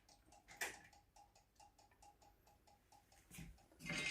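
A cuckoo clock, just set going with its weights hung, ticks in a steady even rhythm, faint and close, with a few louder handling knocks and rustles.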